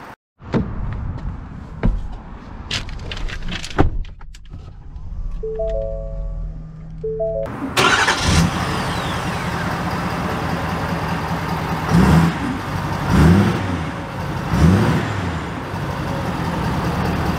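Door clunks and dashboard chimes come first. Then the PowerStroke diesel in a 2022 Ford F-250 Tremor pickup cranks and starts with a sudden roar, settles into a loud idle and swells with a couple of revs.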